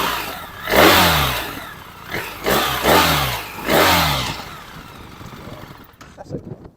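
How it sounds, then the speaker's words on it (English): A 2023 BMW R1300 GS Trophy motorcycle engine, ridden in very wet conditions, is revved in four or five loud, close throttle blips that each rise and fall back toward idle. "So let's rev her up, shall we?"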